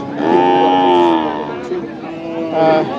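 Young Sahiwal calves at the Nilphamari cattle market give loud, close moos: one long drawn-out call followed by a shorter one, with faint crowd background.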